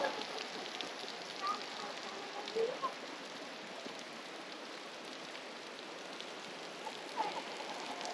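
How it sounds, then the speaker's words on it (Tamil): Water dripping and trickling from the ceiling of Gua Tempurung, a limestone cave in Malaysia, falling like steady light rain; a soft, continuous patter with occasional nearer drops, fairly faint and without talk. "இங்கே வந்து தண்ணி எப்படி ஒழுது பாருங்கள், மழை பெய்கிற மாதிரி"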